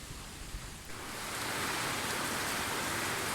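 Light summer rain breaks a spell of intense heat, a steady broadband hiss that swells after the first second and holds at a constant level with no voices.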